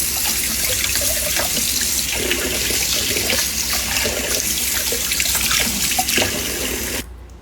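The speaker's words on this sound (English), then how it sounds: "run cold water over them while you're peeling" Cold water runs steadily from a tap into a kitchen sink, a constant splashing hiss that cuts off abruptly near the end.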